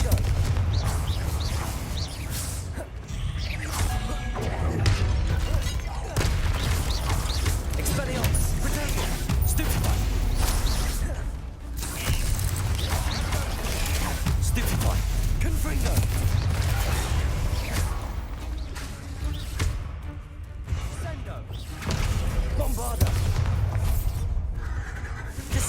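Blasting spells such as Confringo in Hogwarts Legacy go off one after another as repeated loud booms and crackles, mixed with mechanical clatter and dense game noise, with voices speaking over the top.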